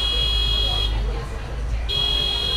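An alarm in a podcast studio gives a steady high electronic buzz that drops out for about a second and returns, sounding over low room noise.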